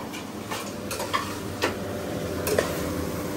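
Chicken sautés in a pan with a soft steady sizzle, broken by a few sharp scraping and tapping clicks of a utensil stirring against the metal, close and moderately loud.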